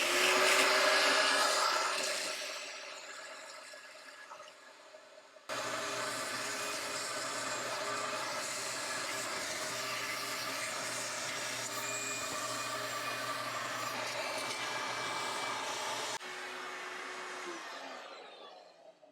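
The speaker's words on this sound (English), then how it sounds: "Let me get me some vacuum going." A loud, steady vacuum roar runs on and on, its pitch shifting as it starts and changes load, a wet vacuum pulling up water during maintenance of a Splendide washer in an RV.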